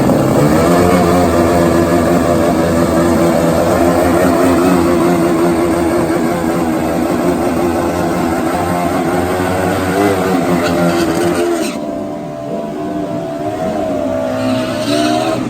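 Turbocharged Suzuki Hayabusa drag-racing motorcycles on street tires at a cold night event roar loudly and continuously, engines droning steadily before the sound thins briefly near the end.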